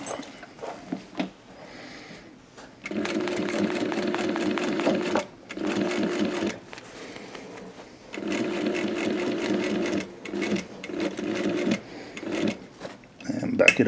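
A sewing machine stitches a BOC pocket for a skydiving rig in several close, rapid bursts separated by brief pauses, with a person talking during the gaps.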